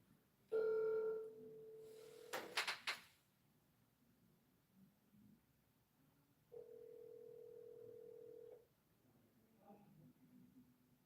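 A phone call rings out with long steady electronic ringback tones, the first burst followed by a sharp clatter of handling, then a second long tone after a pause, all fairly quiet.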